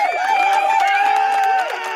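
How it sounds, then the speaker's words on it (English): Canned applause sound effect triggered from a button on a talk show, a short burst of clapping and cheering, loud and close, with voices mixed in. "Hit the button on your thingy. The applause."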